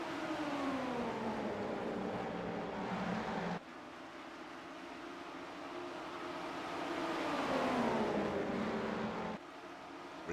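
GTP prototype race cars in iRacing at Motegi or the Indy road course, engines droning together with pitch sweeping down and back up as they pass, a sustained mid-level roar that drops abruptly twice.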